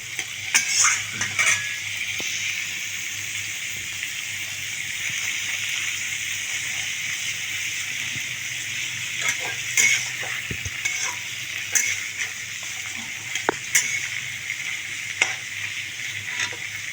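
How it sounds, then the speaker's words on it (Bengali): Chilli chicken fries in a pan over a medium flame, a bright continuous sizzle with intermittent scraping stir strokes and light clinks of a utensil, close and steady with no speech. "নেড়ে দেবো"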